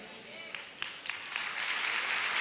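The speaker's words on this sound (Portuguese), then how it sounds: "Para o Senhor, aplauda o Senhor" A church congregation applauds during a sermon, a broad wash of clapping that swells and grows denser toward the end, with a few sharper claps standing out early.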